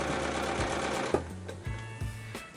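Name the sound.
sewing machine stitching fabric strip beside rope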